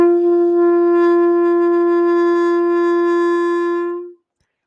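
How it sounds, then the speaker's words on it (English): A clarinet sounds an open G with no keys pressed, one steady sustained note held for about four seconds, loud and close, then stopping cleanly with no talk. "when you hold the instrument correctly and don't push any buttons, you'll get a G, and it sounds like this"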